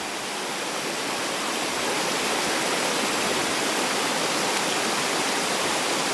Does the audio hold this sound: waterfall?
yes